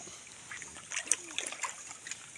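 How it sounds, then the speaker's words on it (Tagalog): River water splashes and gurgles nearby in a quiet outdoor setting, with irregular soft sloshes and bright droplet splatters over a faint steady flow. "Ito, di ba, ilog yan."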